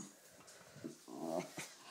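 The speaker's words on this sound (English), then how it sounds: "Oh, you're such a nice dog, Bud." A small fluffy dog gives a few short, low, close rumbling growls and grunts in a quiet room, with no voices over it.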